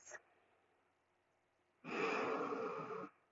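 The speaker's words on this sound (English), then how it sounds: "2 focused breaths" A person breathes in a focused way during a stretching exercise: one short breath at the start, then a pause, then a long, loud, close exhalation lasting over a second.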